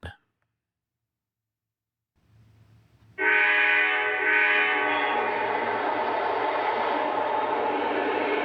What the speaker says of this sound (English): We should hear the horn from both.